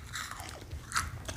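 Crunchy chocolate bar from England bitten and chewed up close, a soft crisp crunch with a brighter crack near the middle, quiet and without talk.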